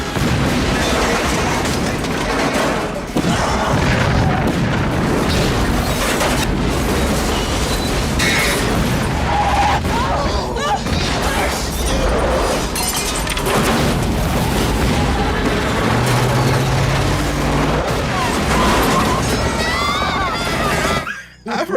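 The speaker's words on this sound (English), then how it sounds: "But this tanker explodes on this bridge" Tanker truck exploding on a bridge in an action film: a dense, sustained roar of blasts and rumbling booms runs loud and unbroken throughout, thick with low-end impact and crackling debris.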